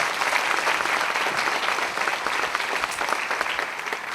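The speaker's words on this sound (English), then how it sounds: "Let's give them all a round of applause" Audience applause at an Older Americans Act 60th birthday event, heard as steady, dense clapping from a crowd that continues throughout.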